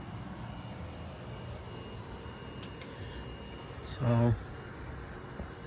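A CEI Winnower 52-inch hugger ceiling fan runs with a steady, low, even whir that holds throughout. Someone speaks briefly near the end.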